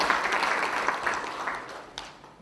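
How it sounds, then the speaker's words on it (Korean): A crowd at a political party conference applauds with steady, dense clapping that gradually fades toward the end, somewhat distant and moderate in loudness. "큰 박수 한번 다시 부탁드리겠습니다"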